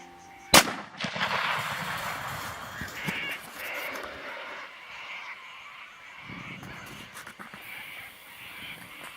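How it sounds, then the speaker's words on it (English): One sharp, loud rifle shot during a fallow deer hunt, followed by rustling and movement outdoors, with no speech. "it's a bit of wily rifle action as well too"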